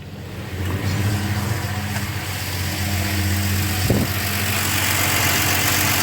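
A car engine, fitted with a double snorkel air cleaner, idles steadily after starting: a continuous low drone with a brief rev or knock near the middle, close and fairly loud, and no talking over it.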